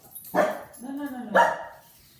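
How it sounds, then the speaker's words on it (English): Dogs bark loudly and close by, two distinct barks about a second apart, with a softer whimpering yelp between them. "Look at them like that, except when they bark."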